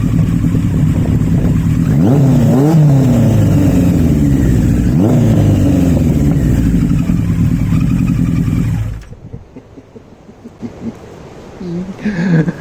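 A 1982 Yamaha motorcycle fitted with a Delkevic 2:1 megaphone exhaust revs up and down several times, loud and close, its deep throaty note rising and falling before settling into a rough, fluttery idle.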